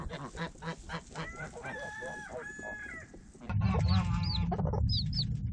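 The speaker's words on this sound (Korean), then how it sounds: "녀석은 그레이의 암컷 거위들을 포섭하려는 것 같다" Geese honk and call loudly on a farm alongside chickens, with a dense burst of overlapping clucks and honks that grows louder and busier toward the end.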